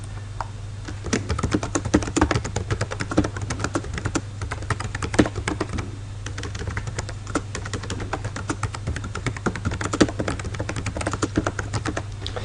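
Fingers type steadily on a computer keyboard, dense irregular clicks of keys close up and continuing for several seconds, with a low electrical hum underneath and no talking.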